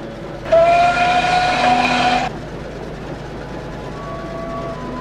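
A steam engine's whistle blows in a loud, sustained blast for under two seconds, then fades to a quieter rumble of rail noise with a faint second whistle tone later on.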